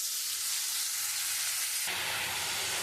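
Tomatoes and asafoetida dropped into hot oil while cooking a vegetarian chana dal, giving a loud, steady, close sizzling hiss that continues without talking.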